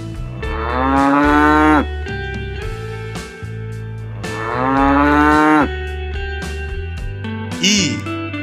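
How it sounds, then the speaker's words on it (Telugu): A cow moos loudly and close by in two long, drawn-out calls with a short pause between them, and a brief higher sound comes at the end. "ఆవు."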